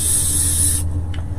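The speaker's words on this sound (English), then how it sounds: "this is Elmer's spray mount" A can of Elmer's spray mount adhesive sprays in one continuous loud, close hiss that cuts off abruptly, leaving a faint room hum.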